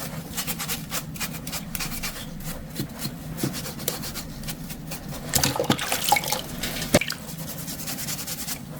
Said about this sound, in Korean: 사포처럼 생긴 수세미로 살살 문질러서 흙을 닦아냅니다.